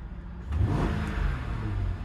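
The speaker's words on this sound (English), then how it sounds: "Engine is very healthy." A Jaguar XJR engine, in very healthy condition, starts quietly and then revs up into a loud, smooth, steady car-engine roar that holds to the end.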